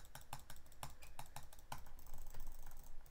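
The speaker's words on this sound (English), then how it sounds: "You can hear my clicking." Rapid mouse clicks from a player in Arm Wrestle Simulator, a steady stream of sharp close taps repeating several times a second, loud and alone without talk.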